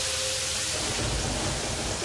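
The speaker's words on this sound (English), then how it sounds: "Very few times it's raining in the desert." Steady rain in the desert of the video game Terraria, a dense even wash of noise with a low rumble like distant thunder, loud and continuous throughout without talk.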